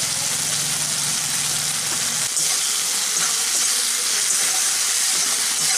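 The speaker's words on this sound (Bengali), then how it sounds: "এই মশলাটাকে আমি একদম একটু শুকনো শুকনো করে ভেজে নিচ্ছি" Ground masala spices dry-frying in a pan for an egg omelette curry, a steady loud sizzle and crackle running continuously with no talk.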